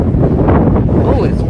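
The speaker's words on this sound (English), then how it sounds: "Oh, it's windy." Strong wind buffets the microphone with a loud, rumbling roar at a luge track in South Korea, while a voice speaks briefly underneath.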